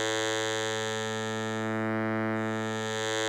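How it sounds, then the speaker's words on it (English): A synthesizer holds one buzzy, harmonically rich wavetable tone while morphing smoothly between two waveforms, so the upper timbre shifts and softens in the middle before it returns. The tone is steady, sustained and played alone. "And we want the morph enabled because it actually allows us to morph seamlessly"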